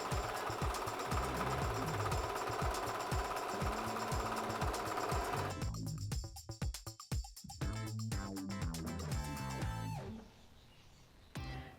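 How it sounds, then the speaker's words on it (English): A serger stitches strips of cream suede in a rapid, loud mechanical chatter that runs steadily, then stutters in uneven bursts before winding down to a quieter whir near the end, with no talking. "It's important to use the serger for this to make sure it maintains its stretch."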